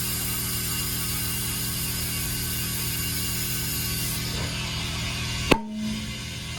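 Tire bead popping onto a wheel rim during a tire pressure sensor replacement: a single sharp, loud pop near the end, cutting through a steady hiss of air, followed by a brief lower ringing tone.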